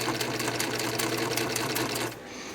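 A Bernina Record 7 sewing machine runs steadily through a zigzag stitch, a fast even whirring clatter close by that stops near the end, leaving a faint hum.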